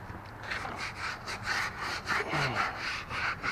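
A brush scrubs deck cleaner into a wooden deck in steady back-and-forth strokes, a close, rhythmic rasping that repeats about seven times with no talk.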